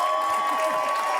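Studio audience applause on a French TV show, a short dense burst of clapping filling the clip with a steady tone running beneath it.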